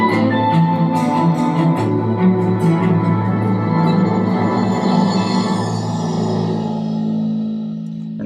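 Light springtime music cue from the game The Secret Behind the Storm, a sustained tonal bed with bright shimmering upper notes and reverb, playing loud and steady before easing off near the end.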